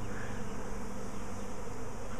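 A swarm of honey bees around an apple tree, heard as a dense, steady, continuous buzzing drone that fills the whole stretch, close and loud, with no speech over it.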